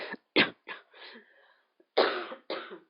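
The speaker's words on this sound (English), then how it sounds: "Sorry about the cough." Several rough coughs close to the mic, a cluster of them, a short pause, then two more forceful coughs.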